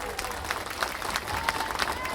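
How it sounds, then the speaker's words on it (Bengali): A crowd at a political rally applauds, with dense, continuous clapping from many hands over a short stretch and voices mixed into the background. "অন্যান্য সকল নেতৃত্বকে একবার জোরে হাততালি দিয়ে বরণ করে নেবেন।"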